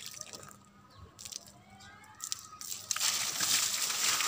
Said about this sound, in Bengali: এখন আমি গাছে পানি দিব